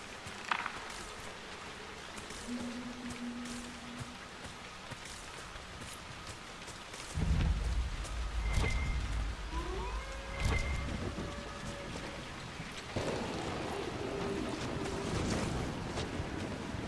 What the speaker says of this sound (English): It really is the rain doing this.